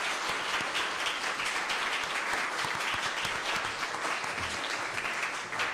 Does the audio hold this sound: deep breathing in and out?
no